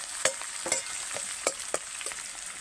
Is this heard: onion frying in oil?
yes